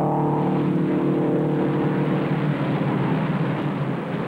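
Race cars lapping at the 1958 Indianapolis 500 make a loud, continuous engine roar with a steady droning pitch throughout, with no voices.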